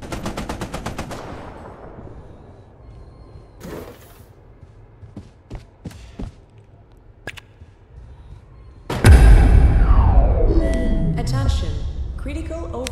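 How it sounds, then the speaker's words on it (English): Turret gunfire in a horror extraction shooter game: an early burst of rapid shots, then scattered single bangs, before a loud roar of alarms and machinery takes over, with a voice speaking over parts of it. "Oh, there's a turret."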